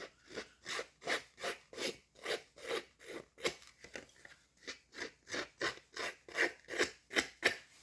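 Flocked Marbled Elegance decorative paper pieces are roughed up by hand in quick, even rasping strokes, about twenty of them in a steady rhythm, close and fairly quiet, with no talking.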